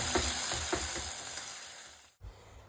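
Onions frying in a pan with added sugar and salt, a steady close sizzle with a few spoon-stirring scrapes, briefly cut off near the end before the sizzle resumes.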